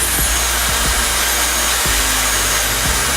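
A Dyson Supersonic hair dryer blows with a steady, even whoosh on its lowest speed, with a few soft knocks and taps over the airflow.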